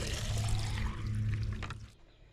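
Water pours into a chick waterer with a steady, close gushing splash that tapers off and stops near the end.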